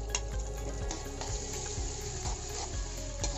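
Ground spice paste fries in a hot pan on a village stove, a steady close sizzle with occasional soft scraping taps, no talk.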